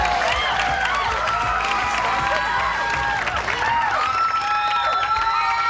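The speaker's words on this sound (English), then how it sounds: "Start clapping now" Studio audience at the 1984 game show Match Game-Hollywood Squares Hour breaks into dense, sustained applause with cheering and whoops, loud and continuous throughout.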